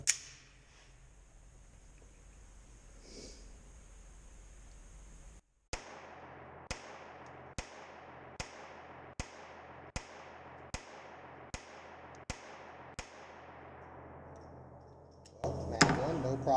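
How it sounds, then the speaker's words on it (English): Ruger LCP II .22LR pistol firing CCI standard velocity ammunition at a range, about ten sharp, evenly spaced shots, each with a quick decaying report, fairly close and alone. "Alright, we're going to do LCP II 22, this time with some standard velocity CCI ammunition at the bottom target."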